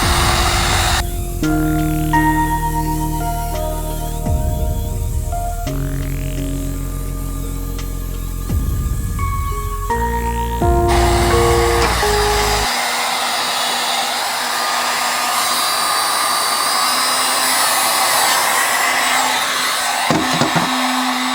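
A heat gun or hair dryer blows hot air onto a PVC longbow, a loud, steady whooshing roar with shifting tones that runs continuously for about twenty seconds, close by and without talk.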